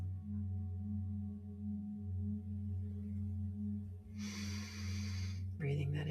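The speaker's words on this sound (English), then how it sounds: "Breathing that in and out." During a guided meditation a single slow breath is heard, a soft airy inhale and exhale over a low sustained drone of background music, close and fairly quiet.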